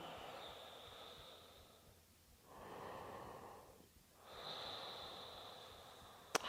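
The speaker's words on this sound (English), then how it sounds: "And a couple of breaths here." Slow, deep breaths during a seated yoga twist, each long airy inhale and exhale rising and falling in turn, close and soft, with no talking.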